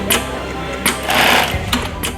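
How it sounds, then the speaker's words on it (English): Sewing machine running with a rhythmic, close mechanical hum, its stitching pulses repeating in short bursts over a steady motor drone. "something about like the rhythmic humming of a sewing machine"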